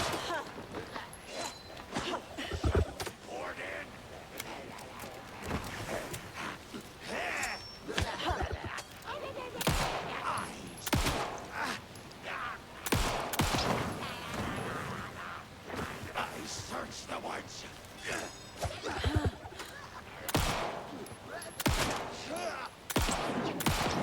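Repeated gunshots from Alan Wake II crack out in irregular clusters across a tense stretch, sharp loud reports with echoing tails, some close together and others spaced apart, over continuous ambient noise.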